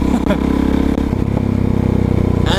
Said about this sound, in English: you can't go wrong with with a single cylinder engine